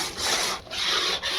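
Urad flour roasts in a pan for adadiya while a spoon stirs it, producing a close, rhythmic dry scraping in about three sweeping strokes with no talking.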